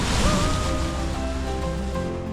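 Niagara Falls thundering down beside a tour boat heading under the mist near the Canadian Falls, a loud, dense, unbroken roar of pounding water filling the air at close range.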